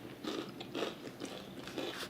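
Repeated crunchy bites and chewing on a spicy snack, close and fairly loud, with four or five rhythmic crunch bursts and no talking.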